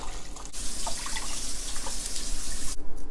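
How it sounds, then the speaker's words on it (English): Tap water runs steadily into a cooking pot for a stir-fried ginger and garlic base of egg drop soup, a loud continuous splashing stream that starts abruptly and stops near the end, with no talking. "And now add 2 cups of water."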